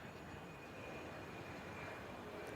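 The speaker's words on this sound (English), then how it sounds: "Waiting for the airplane." An airplane passes over a golf course at a college men's golf championship, heard as a faint, steady, distant engine drone that holds level for the whole stretch with no talking.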